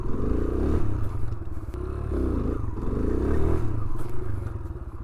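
A Kawasaki motorcycle runs close during beginner wheelie practice, its engine a loud steady throbbing drone that swells and eases slightly in waves, with rattly clatter over it.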